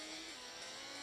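Simulated car engine at full throttle in a driving simulator game, a steady loud high-pitched whine sustained throughout with no pauses.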